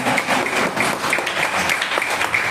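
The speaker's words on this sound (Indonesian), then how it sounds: "Tepuk tangan untuk anak-anak kita" Children applauding together at an Indonesian school gathering, a brisk, close burst of many small hands clapping in a rapid, fairly even patter throughout.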